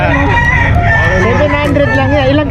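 A one-year-old Sweater gamefowl rooster crows loudly and close by, one long, strained call that fills the whole moment, with farm-market clucking faintly beneath.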